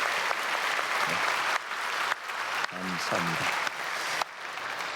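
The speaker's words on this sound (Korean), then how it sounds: "우리 크게 박수로 환영하겠습니다." A church congregation at a Sunday service applauds to welcome a visiting guest, a loud sustained clapping that fills the sanctuary while a voice briefly speaks over it.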